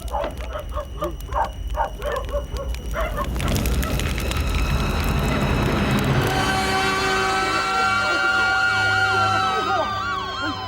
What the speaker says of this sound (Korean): 이웃 주민의 신고로 소방차가 도착했지만